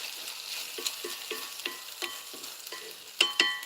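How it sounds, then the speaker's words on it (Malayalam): Vegetables for upma sizzle steadily in a hot pan while a utensil stirs them in regular scraping strokes, with a couple of sharper pops near the end. "അതിന് പച്ചക്കറികളൊക്കെ ഒന്ന് വാട്ടി"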